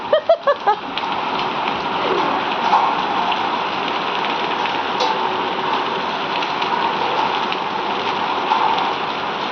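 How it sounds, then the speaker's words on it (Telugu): Hailstones fall around a house: a few sharp, close impacts at the start, then a dense, continuous pattering that holds steady throughout. "మా ఇంట్లో దాకా వచ్చేసినాయి ఐస్ గడ్డలు"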